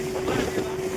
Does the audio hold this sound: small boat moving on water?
yes